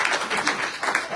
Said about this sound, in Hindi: बाबा के नाम पे एक बार ताली होगा।